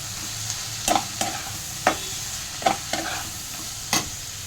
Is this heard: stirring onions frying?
yes